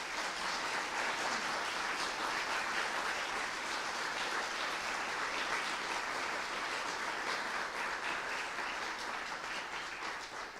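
A steady round of applause for a youth chamber ensemble at a young musicians' competition, dense clapping from a concert audience held evenly for about ten seconds before starting to fade.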